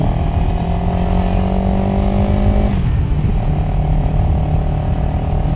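CF Moto CLX 700 motorcycle riding, its engine droning steadily at close range with a held pitch that drops sharply about halfway through as it shifts down, then settles at a lower, even rumble.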